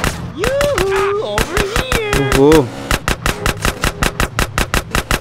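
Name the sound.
gunfire in the video game GTA San Andreas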